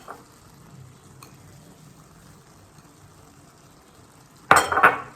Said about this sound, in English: we're going to stop the heat because it's already cooked. And mix this